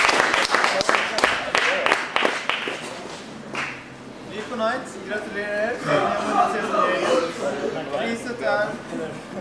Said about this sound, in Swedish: Väl nu applådera för fan.